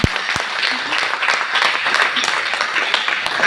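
A seated audience at a Vestige business opportunity meeting applauds Prabhakar sir with continuous, even clapping from start to finish, close and fairly loud.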